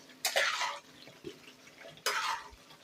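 Fried potatoes tipped from a saucepan into a pan of country-chicken malai curry, giving two clattering, scraping bursts of metal and food, close and fairly loud, with quieter handling in between.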